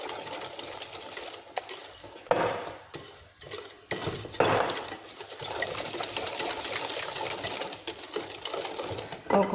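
Cream is whisked in a bowl for a chocolate mousse, a busy scraping and rattling clatter with brief pauses and bursts, close and moderately loud.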